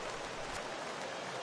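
Rain falling in a PS4 baseball video game, a steady dense hiss of drops filling the whole short stretch, even and moderately loud with no talking.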